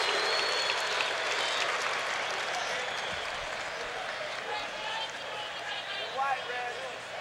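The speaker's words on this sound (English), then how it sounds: "Luke gets a nice round of applause and the Luke call from the fans" Basketball fans in an arena applaud and chant a drawn-out call for Luke as he enters a Bulls–Pacers game, crowd noise rolling under a commentator's voice.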